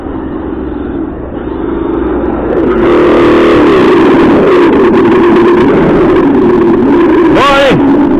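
A Hobao Hyper GT-B 6S RC car with a Mamba Monster X system and an engine sound module drifts, giving a loud synthetic engine roar that swells and revs, with sharp pitch sweeps near the end.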